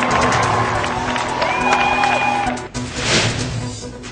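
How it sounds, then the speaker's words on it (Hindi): A crowd of thousands in Central Park cheers, chants and applauds to welcome Modi. The loud, continuous roar carries a few whistle-like tones and swells again after a brief dip. "सेंट्रल पार्क में मौजूद हजारों लोगों ने नारे और तालियों के साथ मोदी का जोरदार स्वागत किया।"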